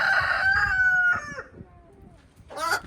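Black silkie chickens on a farm, a loud, close drawn-out crow followed by softer clucks and a brief second call at the end, with no talking.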